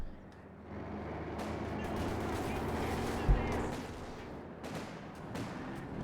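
Gunfire and tank cannon shots crackle through a Company of Heroes 2 match between Wehrmacht and British forces: a dense bed of battle noise with one sharper boom near the middle and scattered bursts after, lying under game ambience.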